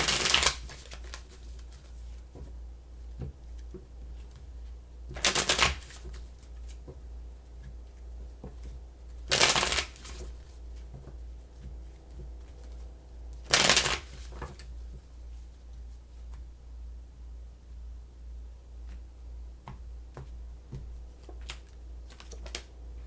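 A deck of tarot cards is shuffled in four short, crisp riffle bursts spaced a few seconds apart, close and loud against a quiet room hum.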